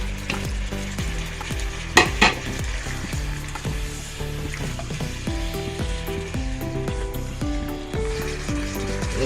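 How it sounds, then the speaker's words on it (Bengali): Fried chicken pieces go into a sizzling Chicken Manchurian sauce, with steady loud frying hiss and close scraping, clattering stirring in the pan throughout. "বন্ধুরা, এরপর আমি ভেজে রাখা চিকেনগুলো দিয়ে দিলাম।"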